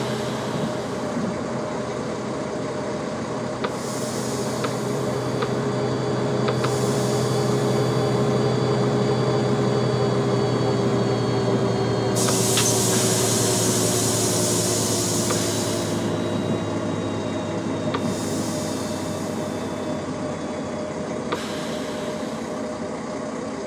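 A train runs on a foggy route toward Donaueschingen in Train Simulator 2018, giving a steady loud rumble with a low hum, a faint gliding whine and several bursts of high hiss.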